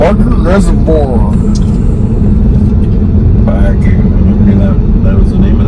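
A Jeep grinds along a rough dirt road near Barker Reservoir on the way to Nederland, a loud, steady low rumble with jolting rattles, and voices are briefly heard over the engine.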